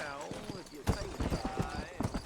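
Horse hooves galloping in the video game Red Dead Redemption, rhythmic thudding clip-clop under a voice talking over it, with game speech and a brief whinny-like tone.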